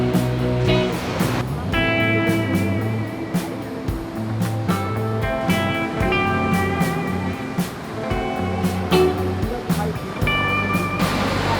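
Surf washes steadily onto a Hawaiian beach at sunset in Maui, a continuous loud wash under background music, with no clear voices.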